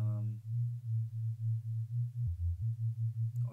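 A binaural beat tone generated in Unreal Engine MetaSounds hums as a low, pure, steady pitch that pulses rhythmically, briefly stepping down to a lower note near the end, with no talking.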